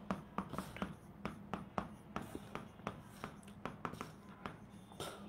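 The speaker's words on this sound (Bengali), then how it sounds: "আমি সংক্ষেপে লিখছি" Marker or pen scratching out short strokes on a board during an anatomy lecture on the ribs, a string of quick taps and scrapes at an irregular pace, faint and close, with no talking.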